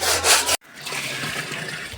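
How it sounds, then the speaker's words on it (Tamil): Broom scrubbing a surface during cleaning, a loud harsh rubbing stroke followed by a sudden stop, then a quieter continuous scraping brush texture. "விளக்கு மாற்ற போட்டு தேய்ச்சி தைச்சிருக்கிறேன்."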